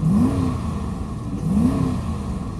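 A high-mileage Dodge Charger with a 5.7-liter engine and a check engine light on revs twice in quick succession, each rise and fall clear and close over a steady idle rumble.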